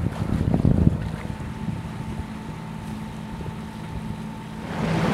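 Sailboat under way in steady wind, with a broad rushing of wind and water, a low hum, and a brief louder gust near the start, close and continuous with no talk.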